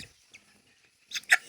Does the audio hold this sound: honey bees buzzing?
no